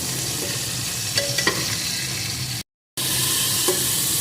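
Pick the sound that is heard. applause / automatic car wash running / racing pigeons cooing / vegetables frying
vegetables frying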